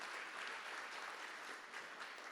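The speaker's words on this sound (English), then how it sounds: "Let's give her a nice round of applause." Applause from an audience at a sports Hall of Fame induction ceremony, a steady, fairly faint wash of clapping with no voices.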